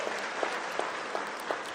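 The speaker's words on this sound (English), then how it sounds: "I think you need a round of applause." Steady applause from an audience at a university academic-year closing ceremony, a dense wash of many hands clapping with a few sharper accents, continuous and fairly even throughout.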